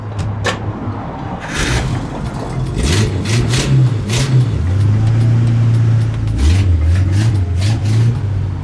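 A car engine cranks and catches, then revs up and down several times, loud and close, with the motor holding a steady idle between revs.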